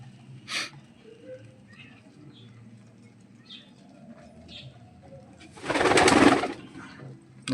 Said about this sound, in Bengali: দেখো এই যে সব পায়রাগুলো খেতে চলে এসছে